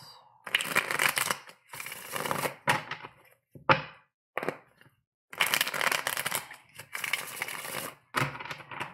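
Cards shuffled in several bursts of dense, crisp riffling and ruffling, close and fairly loud, separated by short pauses and a few sharp taps.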